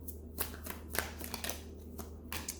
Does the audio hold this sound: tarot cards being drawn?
yes